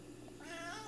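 A single cat meow, fairly faint with a rising, drawn-out tone, heard alone against a quiet indoor background.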